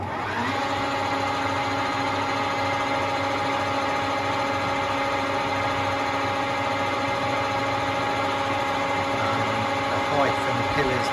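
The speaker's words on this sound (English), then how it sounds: "So here we are on the lathe. It's a Colchester Triumph." A Colchester Triumph lathe runs steadily, a continuous motor hum and whine holding level as it cuts the clutch pillars of a classic Mini Verto clutch plate, with no pauses or strikes.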